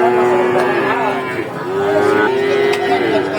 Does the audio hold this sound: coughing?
no